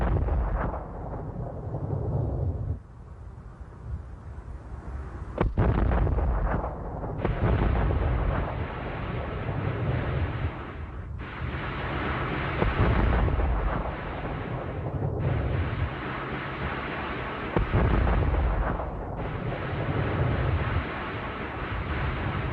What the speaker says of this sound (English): When fired, the 15-centimeter rockets made a dreadful droning sound that many Allied servicemen would never forget.